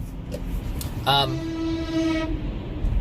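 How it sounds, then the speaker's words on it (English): A vehicle horn honks in one long sustained blast over steady traffic-like background noise, loud and close, briefly overlapping a short burst at its start. "He was honking at me."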